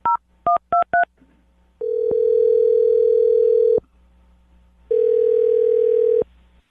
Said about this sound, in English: I'm dialing her phone number right now